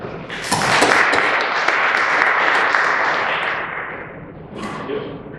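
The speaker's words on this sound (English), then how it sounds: "I'll give it a round of applause for James Parker" Audience applause for a speaker at a college recruiting talk in Philadelphia, a dense burst of clapping that swells quickly, holds steady for several seconds, then tapers off with a few final claps.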